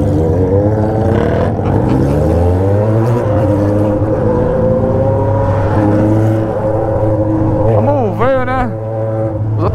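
Yamaha XJ6 Blue motorcycle engine revving loudly and up close, with a steady low drone and rising and falling rev sweeps, heard under ongoing speech from riders.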